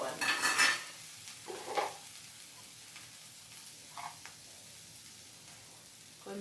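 A spoon stirs bitter gourd curry with salt and turmeric in a pan: a few scraping, clattering bursts of metal on the pan, separated by quiet stretches with a faint sizzle underneath, close by and without speech.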